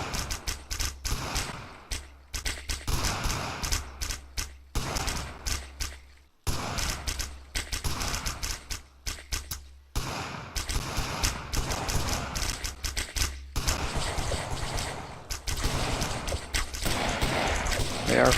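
Repeated bursts of gunfire in the colony-building game Colony Survival, with rapid clattering volleys broken by short silent gaps and continuing throughout at a steady, fairly loud level.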